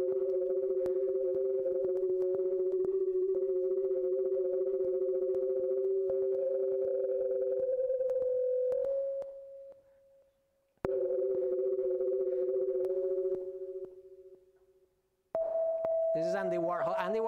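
Colour-to-sound sonification of the painting The Scream: sustained electronic sine-like tones holding steady pitches, shifting between notes, dropping out briefly, then returning with a wavering higher tone at the end.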